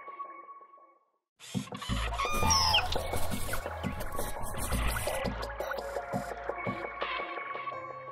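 Domestic chickens cluck and murmur close by in a busy, uneven stream of calls over background farmyard noise, following a brief quiet gap.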